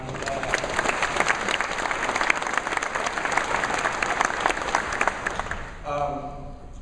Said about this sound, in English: Give yourselves a round of applause if you don't mind.